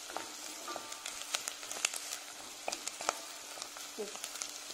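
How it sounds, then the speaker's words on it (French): Onions sautéing in a pan as the base for a béchamel, a soft continuous sizzle with scattered light crackles and occasional utensil clicks, fairly quiet. "Il faut le faire bien revenir les oignons comme il faut."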